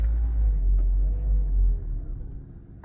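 A Toyota Prius hybrid engine with a heating fault, run under throttle: a deep, loud rumble with a slight shudder that drops off after a couple of seconds as the car switches back to battery.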